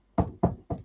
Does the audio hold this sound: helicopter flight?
no